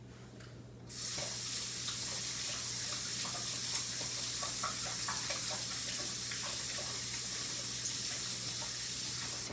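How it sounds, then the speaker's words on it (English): Water running from a kitchen tap while hands are washed, a steady close hiss that starts abruptly after a short quiet moment and continues evenly to the end. "I always try to wash my hands when I get ready to touch some of the stuff that I put in my cabinets"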